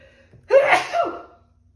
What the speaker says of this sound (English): I had to sneeze all of a sudden.